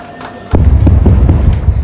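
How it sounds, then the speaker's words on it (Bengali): Tunnel blasting on the Sivok–Rongpo railway project in Sikkim: a sudden heavy boom begins midway, then rolling low rumbles and repeated thuds continue loudly to the end. "3বার ব্লাস্ট, আশা করি আপনারা শুনতে পেলেন।"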